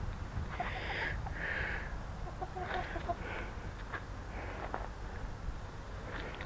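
Chickens clucking in a backyard among fruit trees, a series of short, moderately close clucks and calls scattered over steady outdoor background noise.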